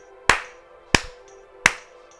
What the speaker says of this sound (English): You hear that echo? There's an echo.